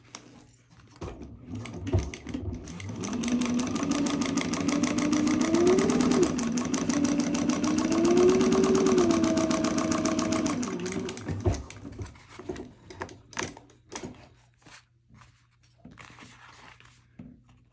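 A sewing machine stitching around the corners of a purse: a fast, steady mechanical whir with rising and falling pitch runs for about eight seconds, followed by short stop-start bursts and faint clicks.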